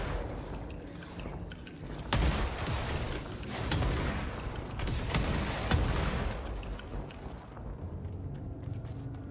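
Gunfire and explosions in a shooter video game, a continuous dense barrage of shots and booms at moderate level that thins out and ends abruptly near the close.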